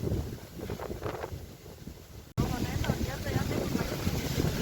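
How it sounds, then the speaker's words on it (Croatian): Strong bura wind roars through a forest near Pusta Bela, a steady loud rushing with heavy gusts buffeting the microphone, surging louder halfway through and holding. "ovo što se čuje oko nas je vjetar koji upravo grdo dere"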